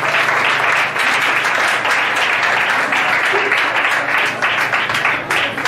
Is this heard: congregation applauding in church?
yes